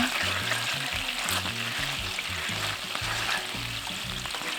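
Dried squid strips sizzle and fry steadily in a pan with oligosaccharide syrup while being stirred, a continuous close hiss with low rhythmic tones layered underneath.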